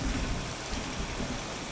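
Thunderstorm ambience from the Philips Hue app: a continuous wash of heavy rain with a low rumbling undertone, steady and even throughout with no speech.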